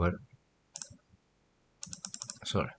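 Typing on a computer keyboard: two short bursts of quick, close key clicks separated by a pause, with brief speech at the edges.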